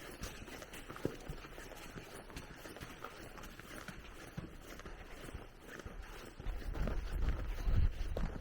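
Horses on a family farm on a warm day, hooves clip-clopping steadily on the ground with a breezy outdoor background that swells into a louder low rumble near the end.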